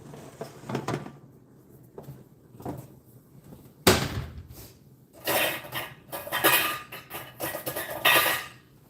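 Metal pots and utensils clatter and bang in bursts while noodles are strained, with a sharp knock partway through and a stretch of rushing, splashing noise near the end.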